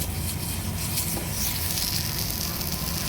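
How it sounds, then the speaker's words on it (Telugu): Oil sizzling as it is spread across a hot dosa pan, a steady bright hiss with light crackle throughout, close and fairly loud, heard alone. "దోశ పెన్ పైన మనం ఇలాగా ఫస్ట్ ఆయిల్ అంతా స్ప్రెడ్ చేసుకోవాలి."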